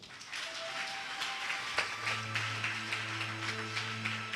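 A church congregation at a prophetic healing service claps in a steady rhythm beneath sustained keyboard tones, the applause fairly soft and continuous.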